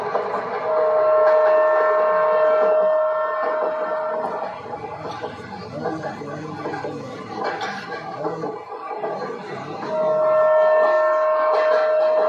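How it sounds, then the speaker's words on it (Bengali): The Yesvantpur Express approaches on the down line with a loud rumble of wheels and carriages, and its horn gives sustained tonal blasts at the start and again near the end. "ডাউন লাইন এগিয়ে আসে যশবন্তপুর এক্সপ্রেস।"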